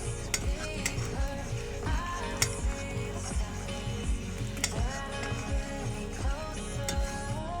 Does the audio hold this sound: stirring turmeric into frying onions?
yes